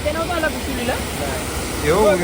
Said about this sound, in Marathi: हे बघा कसा बंधारा मस्तपैकी पाणी बघा कसं चालले